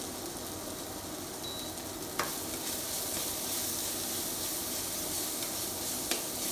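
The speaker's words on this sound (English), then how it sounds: "And keep frying it." Continuous crackling sizzle of spices and pepper powder frying in a hot pan for mango dal curry, close and steady, with a couple of faint utensil clinks against the pan.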